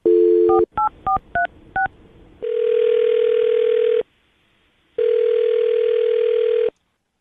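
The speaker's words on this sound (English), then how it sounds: "I'm going to dial her phone number right now" A string of quick touch-tone beeps as a number is keyed in, followed by two long steady dial tones separated by a short silence.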